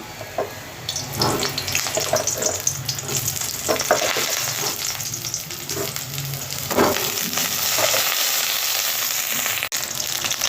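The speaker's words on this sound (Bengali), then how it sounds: "এই ধুঁয়ো বের হয়ে গেছে এইবারে বেগুনগুলো দিয়ে দেব" Eggplant frying in smoking-hot oil, a loud, steady crackling sizzle that runs throughout, with occasional scraping and clattering from stirring in the pan.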